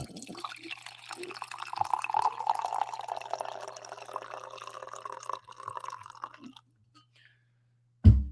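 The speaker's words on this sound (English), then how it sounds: "I owe myself a coffee pour." Coffee pouring into a cup, a steady liquid trickle and drip running for about six seconds before stopping, followed by a brief low thump.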